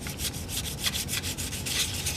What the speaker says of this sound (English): we're going to sand some of this wet, some dry, but getting the rough high spots of this casting down